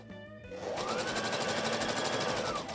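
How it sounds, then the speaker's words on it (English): A sewing machine runs steadily on a zigzag stitch along a raw fabric edge while a vintage 1960s dress pattern is made up, starting after a brief pause and then whirring continuously with a fast, even rhythm, close and fairly loud, with no talk. "decided to just zigzag the raw edge instead"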